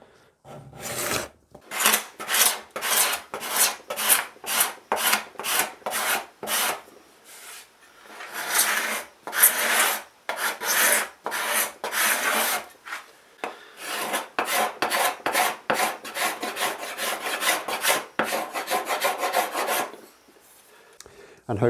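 Card scraper rasping dried glue residue off a wooden guitar body, a rapid series of short, loud scraping strokes close by with brief pauses between bursts and no talking.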